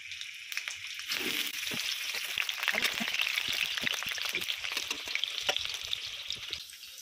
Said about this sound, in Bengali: আলুটা প্রথমে ভেজে নিচ্ছি।